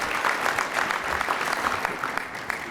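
Audience applause at a scholarship jazz brunch held by a legislative caucus, a steady patter of many clapping hands in a room, moderately loud and continuous with no voices.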